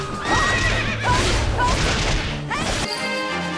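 A horse in the Fire Emblem video game whinnies loudly over crashing battle effects and clattering hooves, the neigh rising and falling for several seconds before the hits fade.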